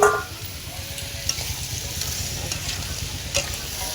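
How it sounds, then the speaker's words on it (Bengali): Crab being stir-fried with spice masala in a pan, a steady close sizzle with scraping stir strokes and a couple of sharper clinks, no voices. "এবার কাঁকড়াটাকে মশলাটা দিয়েই কাঁকড়াটাকে কষে নেবো।"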